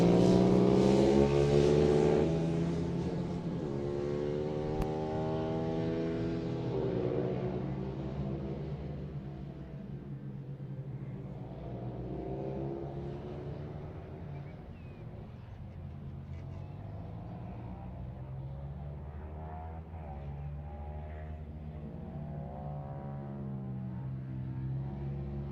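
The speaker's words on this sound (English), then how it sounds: "Ethan Hooker round in the final corner. And up to take the win here at Mondello" Rallycross cars race at Mondello Park during a British Rallycross Championship round, an engine droning and revving through shifting pitches, loudest at the start and then fading to a steadier, more distant whine.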